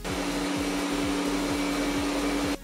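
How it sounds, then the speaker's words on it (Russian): A Roborock Q Revo robot vacuum cleaner runs at maximum power, giving a steady, close whooshing hum with a constant high whine and no pauses. "Пока что это самый тихий пылесос из всех, что бывали в лаборатории."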